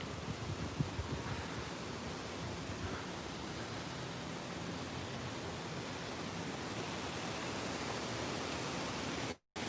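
Copper Creek Falls, a resort waterfall at Walt Disney World, pours as a steady broadband rush, fairly faint and unbroken for the whole stretch, with no voices.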